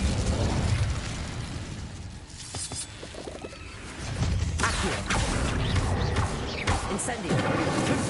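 Incendio fire spell cast in the game Hogwarts Legacy, a burst of fiery blasts and crackling impacts amid dense game effects, with a swell of louder bursts partway through.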